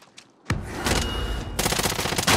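Video game gunfire rattles in close, loud bursts, with a sharp shot followed by sustained rapid fire that intensifies toward the end, no voices over it.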